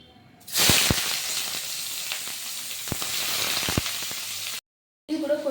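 A sudden loud sizzle as finely chopped onions hit hot oil for mushroom masala, then steady hissing and crackling with a few sharp pops, cutting off abruptly.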